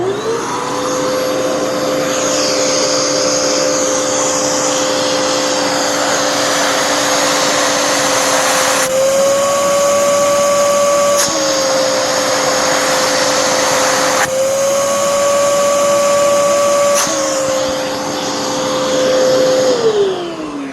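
A Bissell Powerforce Helix vacuum cleaner runs loud and steady during a suction test at the hose end, its motor whine shifting pitch briefly several times as the hose opening is blocked and released.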